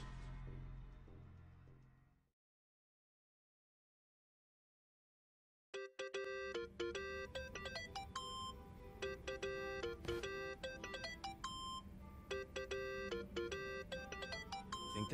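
Phone ringing in the game Yakuza: Like a Dragon, a repeating electronic ringtone melody that starts abruptly after a few seconds of silence and loops steadily, fairly loud, following a short stretch of low background sound.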